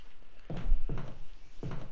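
Three dull thunks spaced evenly, an old-fashioned key turning and working a door lock in Resident Evil Remastered, close and fairly quiet.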